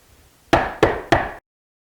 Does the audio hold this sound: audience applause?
no